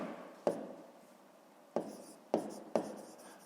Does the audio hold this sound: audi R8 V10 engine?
no